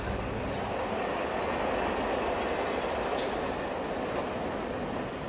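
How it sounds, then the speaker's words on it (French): A train passes through the city of Liège, beneath the Pierreuse hill, giving a steady, continuous rumble of rolling wheels with a faint squeal, sustained and fairly distant throughout. "Des trains circulent encore qui traversent la ville, sous la colline de Pierreuse"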